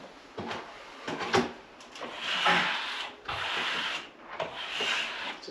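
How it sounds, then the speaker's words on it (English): A plastic trowel makes a quick dry pass over a freshly plastered ceiling, giving repeated soft rubbing and scraping strokes in an even rhythm with short pauses between them, close and clear. "all I'm going to do is a very quick dry pass with a plastic trowel"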